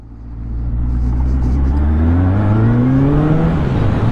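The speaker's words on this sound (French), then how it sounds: "ce qui va faire que je vais aller plus vite, c'est que je vais accélérer à chaque fois entre les deux" A car engine revs up close and loud as the car accelerates, its drone rising steadily in pitch and dipping briefly as a gear changes, with no talking.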